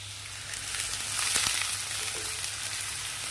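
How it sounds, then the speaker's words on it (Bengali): Potatoes frying in a pan give a steady, soft sizzle that swells slightly midway. A few faint clicks sound and no one speaks. "আলু ভাজাগুলো আস্তে আস্তে করে দিই।"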